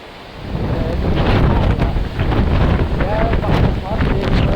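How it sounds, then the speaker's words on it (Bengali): Strong storm wind roars through trees and buffets the microphone, a loud broadband rush that builds within the first half second and then keeps gusting without letup. "এই দেখুন গাছ কিরম বাতাস ছাড়ছে"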